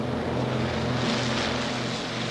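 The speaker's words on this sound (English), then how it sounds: "Water goes all over the lower windows and you get an enormous amount of spray and noise" A loud, steady roar of a flying boat's engines taking off from water, with rushing spray, droning continuously throughout.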